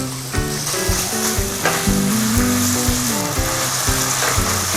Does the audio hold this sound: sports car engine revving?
no